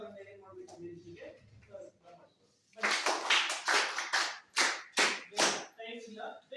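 Students in a 10th-grade classroom clap in a burst of sharp, uneven handclaps that follow a few seconds of talking, loud and close, the claps fading out in separate strokes toward the end.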